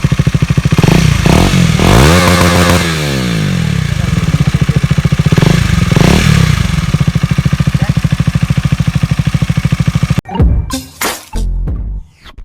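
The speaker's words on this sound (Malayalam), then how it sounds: "അപ്പോൾ നമുക്ക് ആ ഒരു എക്സോസ്റ്റ് ഫിറ്റ് ചെയ്തിട്ട് അതിൻ്റെ സൗണ്ട് എങ്ങനെയുണ്ടെന്ന് ജസ്റ്റ് ഒന്ന് നോക്കാം." KTM Duke motorcycle with the exhaust dB killer removed, its engine running loud and close for about ten seconds with repeated throttle revs rising and falling, then a few sharp, choppy blips before it cuts off.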